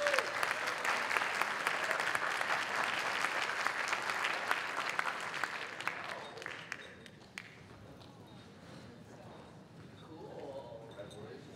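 A crowd at a closing ceremony breaks into full, dense applause that holds for several seconds, then thins and fades into quieter room murmur and a voice.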